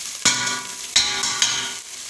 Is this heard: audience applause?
no